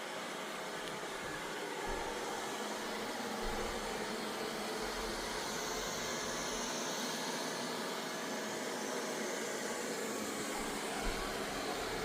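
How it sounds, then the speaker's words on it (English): A Samsung Bespoke Jet Bot Combo AI robot vacuum and mop runs with a steady, even whirring hum, continuous and fairly faint, with no talking. "I was just hoping it would simply vacuum"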